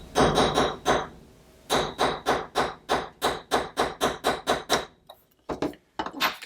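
Steady hammer blows on a wooden bench top, sharp and close, in quick bursts with a brief pause before a few final taps.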